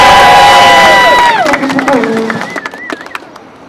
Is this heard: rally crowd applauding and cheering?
yes